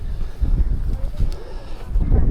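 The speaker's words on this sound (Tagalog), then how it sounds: "Lakas ng hangin." Strong wind buffets the microphone at a hillside camping site, roaring in heavy low gusts that rise and fall throughout with only faint voices underneath.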